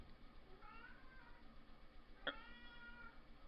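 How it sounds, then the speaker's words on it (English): A house cat meows indoors, one short clear meow standing out briefly against a faint, quiet room hiss, fairly close but soft. "And there's the cat meowing."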